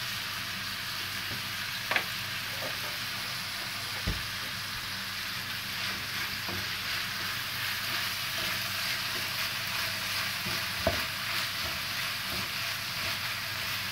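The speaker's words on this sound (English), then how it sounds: "You can see it's browning right now. When all of the mince is brown" Mince for spaghetti bolognese sizzles and browns in a hot pan, a steady crackling hiss with occasional sharp pops and light stirring knocks, no talking over it.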